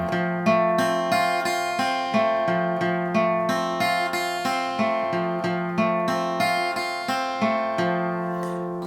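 Acoustic guitar strumming two chords back and forth in a steady four-count rhythm, each strum ringing bright and full with sustained overtones, close and alone without any voice.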